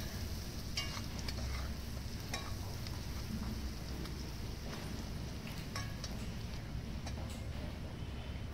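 A spoon stirring chicken patty filling with spices and black pepper in a hot pan, giving a continuous dense sizzle with scattered light scraping clicks, close and steady throughout.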